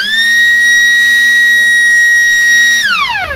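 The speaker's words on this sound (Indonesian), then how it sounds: "dari bunyi sirine alarm. Ini menandakan bahwa sistem alarmnya berfungsi dengan baik." An oil-fired boiler alarm siren sounds as a loud, steady electronic tone held for about three seconds, then pitches sharply downward as it cuts off, with no talking.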